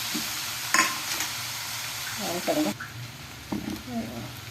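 Mashed roasted eggplant being stirred into sautéed masala for a spicy bharit, giving a soft sizzle with intermittent scraping and stirring strokes close by, fairly quiet, with some brief vocal sounds.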